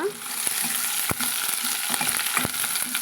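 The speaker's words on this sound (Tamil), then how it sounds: "நல்லா ஓரளவுக்கு பொன்னிறமாக வதங்கி வரட்டுங்க வெங்காயம்" Chopped onions fry in hot oil with fresh curry leaves for a Kerala-style raw mango dish, a steady close sizzle broken by a few sharp scrapes of stirring.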